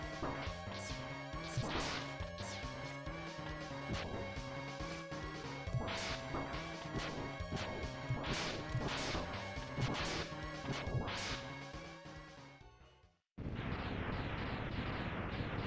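Loud, dense explosions and crashing impacts from Mega Man X pound continuously over a music bed, briefly cutting out before resuming.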